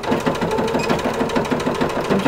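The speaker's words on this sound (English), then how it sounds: "now I'm going to stitch right along this edge with a straight stitch" A sewing machine runs a steady straight stitch along a fabric edge, securing a seam allowance while making corset bone casings; its rapid, even needle chatter is close and continuous without pause.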